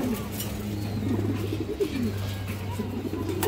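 A large Bagamadi pigeon coos in several rising and falling phrases close by, over a steady low hum and faint background chatter.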